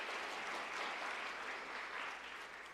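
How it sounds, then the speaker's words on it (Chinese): A church congregation applauds during a Sunday worship service, steady clapping from many hands filling the room for a few seconds and fading slightly toward the end, with no one speaking over it. "咱用热烈的掌声"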